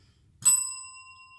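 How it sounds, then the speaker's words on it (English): A small bell is struck once and its clear metallic ring hangs on, slowly fading over about a second, close and alone. "So ring your bell."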